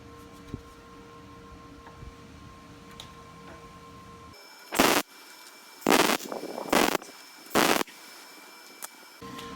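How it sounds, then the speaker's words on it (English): Steel round bar being welded onto pallet breaker forks: after a quiet hum, four loud crackling bursts of welding arc, each about half a second long, come close together and stand alone without speech. "let's get it tacked up, and then we'll make sure it's all square and straight, and then we'll go ahead and weld it out"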